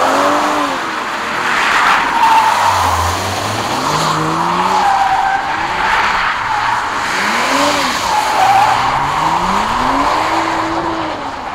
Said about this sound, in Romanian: O să mergem cu ea un pic, să o vedeți cum se aude, cum se simte în mers